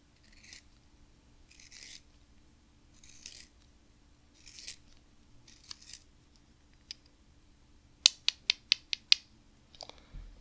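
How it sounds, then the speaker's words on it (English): A small handheld sharpener grinds a pencil in several slow, soft scraping strokes, followed by a quick series of sharp clicks, quiet and close in an otherwise still room. "so I'm just gonna go ahead and sharpen your pencil for you"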